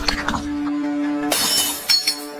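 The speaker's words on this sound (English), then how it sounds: "Some people just picked up the bottles at hand and smashed them down." Glass bottles smashed down in a zombie apocalypse game, a bright crash of shattering glass after a sustained tone, with short clinks following; loud and close.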